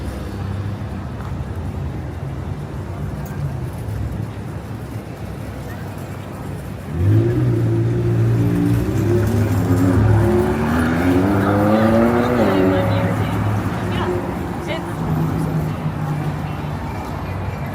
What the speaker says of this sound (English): I do believe that is a McLaren